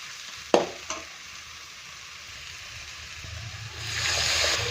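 Masala paste is sautéed and stirred in a pan for a fish curry. Two sharp clanks of the spoon come first, then a quiet, steady sizzle that grows louder toward the end, with no one talking.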